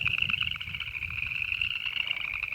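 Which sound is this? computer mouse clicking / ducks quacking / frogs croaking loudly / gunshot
frogs croaking loudly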